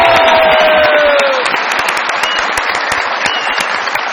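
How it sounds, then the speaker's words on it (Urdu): A television comedy show's studio audience applauds loudly and steadily, with dense, sustained clapping and a faint whistle near the start before the ovation eases slightly toward the end. "بہت ساری تالیوں میں ویلکم کہتے ہیں جناب عارف لوہار صاحب کو"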